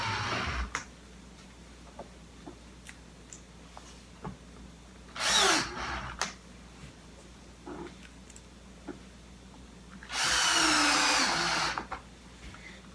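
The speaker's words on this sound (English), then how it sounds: "drill is set fairly low, so you're not jamming it right in and breaking the plastic" Power drill driving screws into the plastic fittings of a Roman shade, two separate short whirring bursts of about a second each, close and loud, with quiet pauses between them and no talking.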